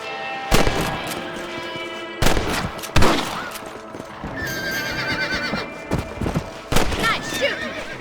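Gunshots in the video game Red Dead Redemption, several sharp loud cracks spaced a second or two apart, mixed with horse whinnies, hoofbeats and ambient farm sounds.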